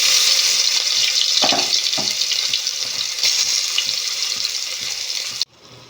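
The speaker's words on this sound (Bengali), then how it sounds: "এবারে আমি মাছগুলো এপিট ওপিট করে একটু ভেজে নেব।" Loud, steady sizzling of fish frying in hot mustard oil fills the clip, with a few soft clinks of a utensil, then cuts off abruptly near the end.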